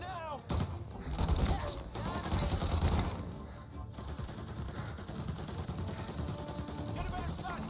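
Gunfire in the crime shooter Mafia: Definitive Edition crackles in a dense, continuous burst of rapid shots with crashing impacts, mixed with game voices shouting over the fight.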